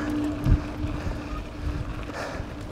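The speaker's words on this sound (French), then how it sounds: "Vent de face" Headwind roars against the microphone of a rider descending a mountain bike race course in the Ax 3 Domaines Maxiavalanche, a steady loud rumbling buffet with gusty swells throughout.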